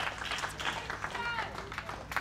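Tennis crowd in Little Rock applauding an overhead winner in a doubles match, a brief burst of scattered clapping and cheering that fills the short moment, with no speech over it.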